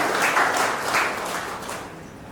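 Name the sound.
audience applause for authors and poets at book launch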